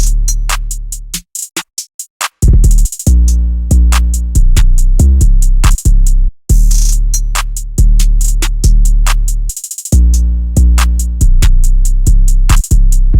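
A full hip-hop drum beat, with booming 808 bass under crisp hi-hats and snare, opens with a quick stuttering roll. A steady, punchy groove follows, with rolls and short dropouts, loud and close.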